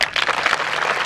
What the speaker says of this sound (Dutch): eigenlijk een enorm applaus willen